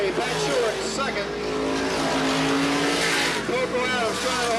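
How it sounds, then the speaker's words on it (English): Supermodified race cars roar around the 1985 Sandusky Speedway oval in a steady, loud engine howl with pitch sweeps as cars pass, a track announcer talking over the din. "the cars continuing to move around the racetrack"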